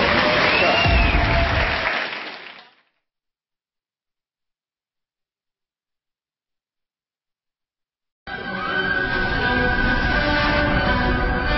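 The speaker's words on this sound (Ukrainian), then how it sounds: "Аплодисменты." A television studio audience applauds in two loud bursts separated by several seconds of complete silence, the second burst mixed with musical tones.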